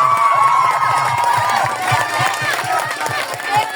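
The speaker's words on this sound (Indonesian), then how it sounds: "kita beri tepuk tangan dulu kedua tim" Applause and cheering from the audience for both teams at a high school debate final at SMAN 1 Reok, with shouts and loud voices mixed into a steady crowd roar that holds for the whole stretch.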